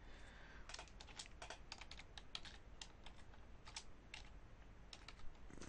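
Rapid keystrokes on a computer keyboard come in uneven bursts and single clicks, close and fairly quiet over a low steady background hum.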